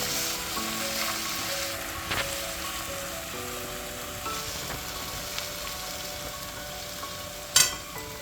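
Goat mutton sautéed kosha-style in a pan crackles with a loud, continuous sizzle, broken by two sharp clanks of a spoon against the metal.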